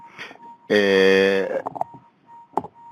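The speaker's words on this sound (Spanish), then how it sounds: "Ese creo que era mi reloj despertador" An alarm clock going off in a meeting room: a loud, steady electronic tone with stacked harmonics lasting under a second, followed by short bursts of nearby speech and noise.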